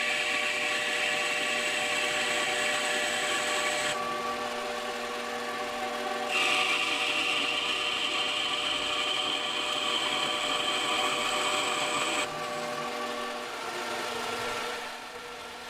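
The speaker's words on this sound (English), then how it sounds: "I'm just using a lathe to run down the brass into a pin form" A lathe turns brass stock down into a pin, its steady motor whine running continuously with a shift in pitch partway through as the cut changes.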